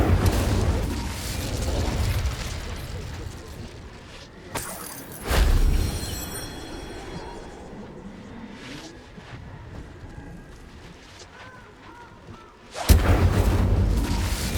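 A fire spell cast in Hogwarts Legacy on PS5, with booming bursts and rumbling blasts amid continuous game effects: one loud hit early, a second a few seconds later, and a final heavy boom near the end.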